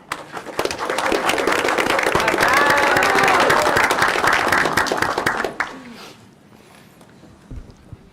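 A school cheering section at an evening board meeting bursts into loud, sustained applause and cheers that swell for about five seconds, then taper off into scattered claps and murmurs in a large room.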